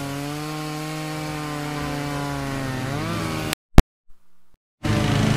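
Chainsaw running loud and close, a steady buzzing whine that rises in pitch, cuts out abruptly with a couple of sharp clicks and silence, then roars back.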